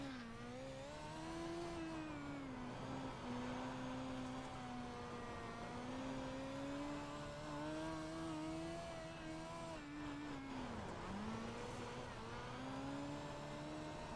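Dirt Midget race car engine in the iRacing video game at Weedsport, a steady high-pitched drone that rises and falls as the throttle works through the turns, continuous and close throughout.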